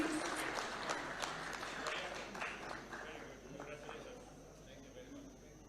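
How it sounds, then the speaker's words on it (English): Applause fills the room at an awards ceremony in Kenya as a steady, fairly distant spatter of many hands clapping. It carries on for several seconds and slowly thins, with faint voices beneath it. "A round of applause kindly."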